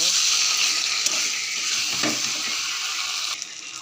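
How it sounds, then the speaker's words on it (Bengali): Spices are sautéed with potato and soybean in a pan for a curry, making a dense, steady frying hiss with faint stirring close by and no distinct talk. "ভালো করে কষিয়ে নিচ্ছি হালকা একটু চিনি দিয়ে দিলাম এটাকে ভালো করে কষিয়ে নেব"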